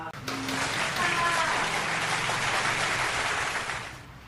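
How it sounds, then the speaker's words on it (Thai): Wedding guests at an evening reception applaud to welcome the bride and groom, a loud, dense burst of many hands clapping that swells quickly and tapers off after about four seconds. "ขอเชิญท่านผู้มีเกียรติทุกท่านปรบมือ พื่อต้อนรับผู้บ่าวสาวในค่ำคืนนี้ด้วยนะครับ"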